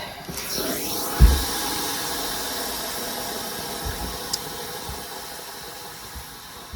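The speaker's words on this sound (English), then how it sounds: "I just do a little gentle tug and use the steam." A steam iron hisses steam onto a fabric blouse in a steady, soft wash of noise, with a faint thump near the start and a low background drone.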